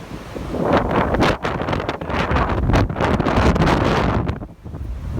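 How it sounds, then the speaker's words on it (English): Strong wind gusts buffet the microphone high on a mountain trail, a loud continuous roaring rush that swells and dips with brief lulls. "Let's see if it'll give us one more big gust."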